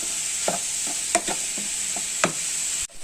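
Egg mixture is stirred into beans for a bean and egg thoran, a soft sizzle running under several spaced spatula scrapes in the pan, ending with a brief stop in the sound.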